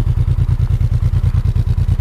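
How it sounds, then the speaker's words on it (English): A two-cylinder motorcycle engine idles steadily after warming up, a close, loud, even low thumping pulse with a regular rhythm and no voices. "And now guys, the motorcycle stabilized at idle."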